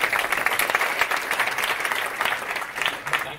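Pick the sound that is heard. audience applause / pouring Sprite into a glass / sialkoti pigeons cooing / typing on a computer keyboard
audience applause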